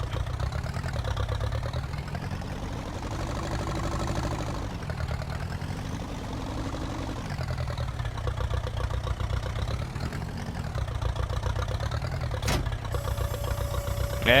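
A standard Ferguson tractor engine runs steadily and close by, a loud, continuous low rumble with slight shifts in pitch, ending in a brief clank near the close.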